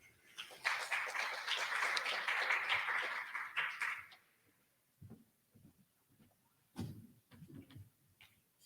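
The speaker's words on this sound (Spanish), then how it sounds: "Recibamos al doctor Becerra con fuertes aplausos." Applause greets a doctor being introduced at an international rheumatology course, a strong burst of clapping lasting about four seconds before fading, followed by scattered knocks and handling noises in a quiet room.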